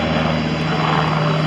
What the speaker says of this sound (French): Cet hélicoptère est un concentré de technologie.